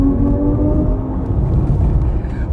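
A Kia EV6 electric car plays its stylish-mode active sound design, a low, smooth synthetic hum with steady tonal layers that sounds continuously for a few seconds.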